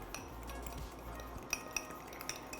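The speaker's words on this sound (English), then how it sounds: "So we're gonna stir this up." A utensil stirs an egg and baking powder bread batter in a dish, soft scraping punctuated by several sharp clinks against the bowl, close and quiet with no voices.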